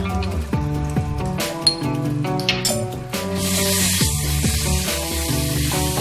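Garlic paste drops into hot oil with whole cardamom, cloves and cinnamon for a Bengali doi katla, a loud hiss rising midway and holding steady under tonal background music.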